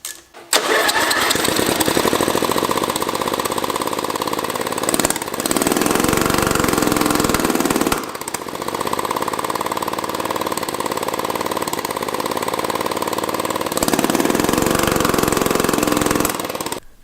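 A Craftsman lawn mower engine runs loudly and steadily close by, with brief dips and restarts in its drone and a slightly uneven idle.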